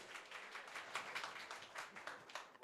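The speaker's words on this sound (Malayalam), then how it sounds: "ഒന്ന് കൈയടിക്കാൻ നമുക്ക് എല്ലാവർക്കും." Guests at a 50th birthday celebration in Qatar clapping together in a soft, distant round of applause with a faint voice underneath.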